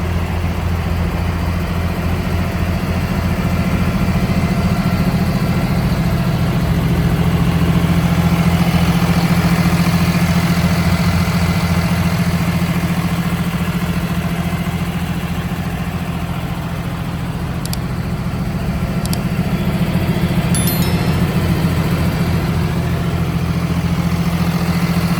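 A Zoomlion PL2304 tractor with a 230 hp engine, weighing 9610 kg, idles outdoors with a steady, close, low diesel rumble and even throbbing hum for the whole stretch, no voices.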